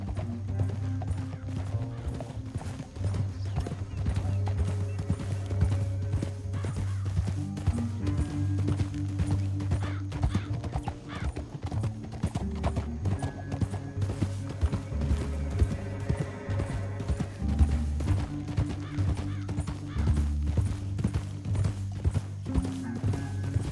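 Horse hooves clip-clop at a steady gallop in Red Dead Redemption 2, a close rhythmic pounding that runs the whole stretch under a sustained musical score, with an occasional whinny.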